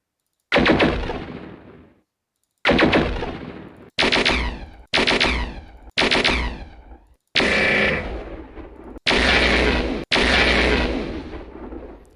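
Heavy mech weapon blasts from MechWarrior 4 fire one after another, eight loud booming shots with metallic ringing tails, the later ones bigger and more explosive, no voices.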